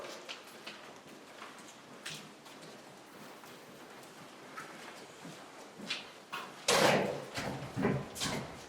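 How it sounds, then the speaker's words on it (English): A door is tried and found locked from the other side in an old building, with faint handling and rattling clicks that end in a louder clunk and jostling near the close. "Let me go check the door."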